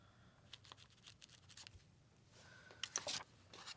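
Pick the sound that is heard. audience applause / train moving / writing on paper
writing on paper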